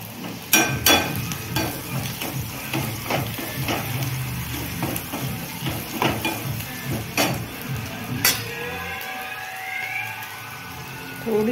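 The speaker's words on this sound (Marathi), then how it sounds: "कांदा जास्त परतून नाही द्यायचा, थोडासाच परतून द्यायचा" Chopped onion sautéed and stirred in a pan on the stove, with a steady sizzle of frying broken by repeated sharp scrapes and knocks of a spoon against the pan, close and fairly loud, no talk.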